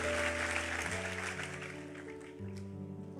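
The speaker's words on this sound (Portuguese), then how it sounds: "Aplauda Ele, vamos ficar em pé" Congregation applause in a Portuguese-language church service at the close of a sermon, a wash of clapping that fades gradually beneath sustained organ or keyboard chords.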